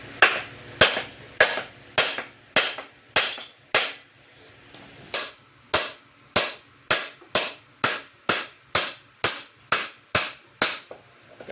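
Hard metallic hammer blows knocking the crankshaft out of a Honda PCX 160 engine, about twenty loud, sharp strikes in a steady, evenly spaced rhythm with short pauses, close up and without talk.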